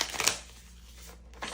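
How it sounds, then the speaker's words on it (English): Tarot cards being shuffled, a brief close riffle at the start, then quiet handling and another burst of card noise at the end. "I'm gonna shuffle the cards for each day"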